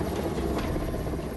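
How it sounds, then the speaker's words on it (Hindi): Indian Air Force rescue helicopter over a flooded area in Bilaspur, a loud, steady rotor and engine roar that fills the whole clip without letup. "सुबह वायुसेना का हेलीकॉप्टर मोर्चे पर उतरा"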